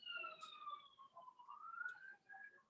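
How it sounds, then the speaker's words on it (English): Wailing emergency sirens pass outside, sweeping up and down in pitch, moderately distant and steady across the whole stretch with no talk over them. "Got the sirens coming."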